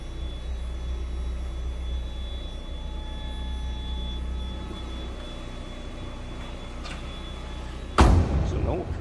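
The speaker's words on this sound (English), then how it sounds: "No crazy exhaust, sounds like a stock 95 Mazda Miata would." A stock 1995 Mazda MX-5 Miata with factory exhaust idles in a steady, low, even drone, followed near the end by a sudden close thump.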